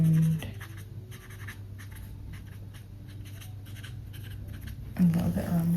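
A colored pencil scratches steadily across a coloring book page, adding white details in a soft, continuous rasp, with a voice heard briefly at the start and end.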